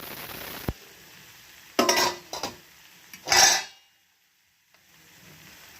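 A metal lid clatters off a pot of boiling potatoes in a home kitchen, with a few sharp clinks and a scraping rattle before the sound drops to near silence.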